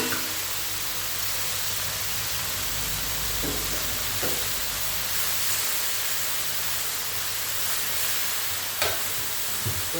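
Phak kan chong vegetables being stir-fried over high heat in a pan, a steady loud sizzle with a few scraping clicks of the spatula, no talking.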